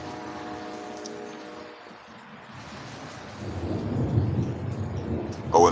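Thunder rumbling through a Louisiana storm, a low continuous roll that builds louder toward the end, with rain hissing underneath and a faint tonal hum fading out early.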